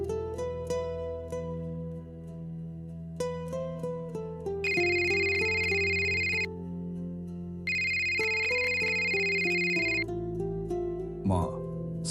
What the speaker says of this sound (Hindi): उसी वक्त उसका फोन बजा।